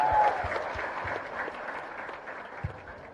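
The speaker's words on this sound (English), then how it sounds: "let's give a huge round of applause" An audience at an awards event applauds with a sustained, moderately distant wash of clapping, fading slightly over a few seconds.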